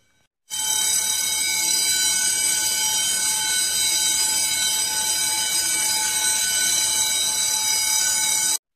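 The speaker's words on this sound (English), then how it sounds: "Fire alarm is going off for the uh, building." A loud, continuous electronic apartment-building fire alarm rings steadily and unbroken for several seconds, harsh and piercing, filling the space.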